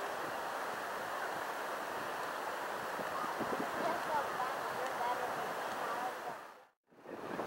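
Steady, loud roar of waves and wind at Fort Walton Beach Island Pier fills the air without pause, then cuts out abruptly for a moment near the end before returning.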